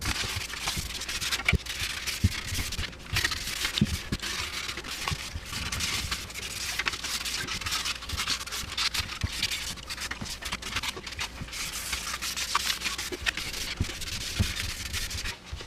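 Steady hand scuffing and sanding of a Yamaha R6 motorcycle seat before painting to black, a continuous close rubbing and scraping with rhythmic strokes and no talking.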